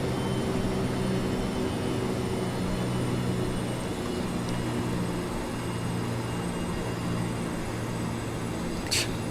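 Steady drone of an airplane engine in a flight simulator being pulled back from takeoff power as the flaps retract, a constant, even roar with faint tonal hum lasting the whole stretch.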